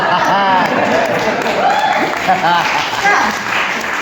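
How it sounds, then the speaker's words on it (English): An audience at a fundraiser comedy set claps after a joke, with a steady wash of applause beneath laughter and voices from the room, loud and close throughout. "And that gets a clap, amazing."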